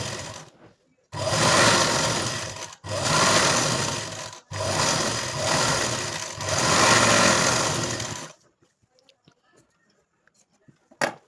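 A sewing machine stitches a 2-inch strip onto a katori blouse in four long, even bursts of motor whir separated by short pauses, then stops, leaving faint handling clicks.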